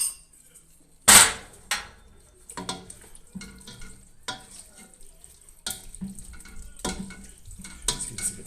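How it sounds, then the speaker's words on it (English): A spatula stirs artichokes in a pan, giving a sharp scrape or knock near the start, then a run of softer scraping strokes over a light sizzle. "Let's give this a good stir"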